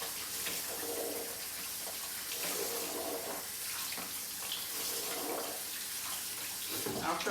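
Tap water runs steadily into a kitchen sink while canned food is rinsed under it, a close, continuous hiss and splash with slight surges, with no talking.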